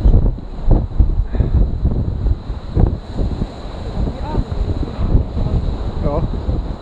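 Strong wind buffets the microphone on the stormy Baltic Sea shore while high waves roll and surf churns underneath, a loud, continuous rush with faint voices in the background.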